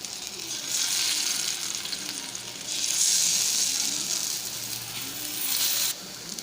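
A gram-flour-stuffed mushroom fries in a little oil over a very low flame, giving a close, steady sizzle that swells and eases in waves before cutting off near the end.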